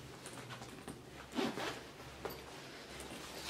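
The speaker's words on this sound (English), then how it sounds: "If I can get it to unzip." A zipper on the front pocket of a travel bag is pulled open in short tugs, with one louder rasp midway and a briefer one after, fairly close and without speech.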